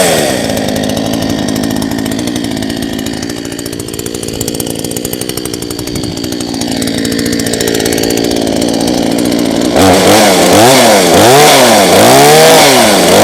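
A Proyama PCS62 chainsaw, a budget Chinese-made saw, runs loud and close with a steady buzzing engine drone, then revs up and down in repeated surges near the end.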